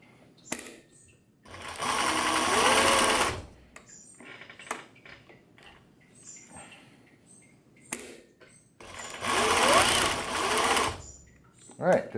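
A Singer 107W1 industrial sewing machine stitches in maximum zigzag after a broken belt is replaced, running in two loud bursts of rapid mechanical chatter with quieter handling and short pauses between them.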